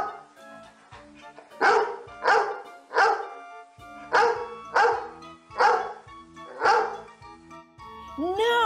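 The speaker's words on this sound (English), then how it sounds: "jumped on the sofa barking his head off" A dog barks repeatedly in a steady rhythm, each bark loud and close, with short pauses between them.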